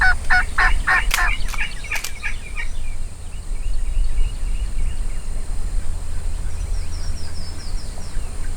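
A wild turkey gobbler in Texas hill country gobbles in a rapid burst of rattling calls near the start, followed by steady outdoor background hiss and faint distant birds.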